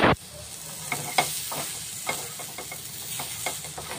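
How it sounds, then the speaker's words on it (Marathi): Soya chunks with masala sizzle in hot oil in a pan, a steady close frying hiss broken by the regular scrape and clink of stirring. "आता हे छान पैकी आपल्याला भाजून घ्यायचे त्या तेलामध्ये"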